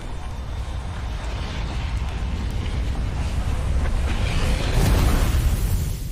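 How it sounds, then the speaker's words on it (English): A deep, sustained rumbling roar from an explosion in the Outer Wilds video game builds into a broad, noisy rush and swells louder toward the end, with no speech. "so we'll just have to wait for the explosion"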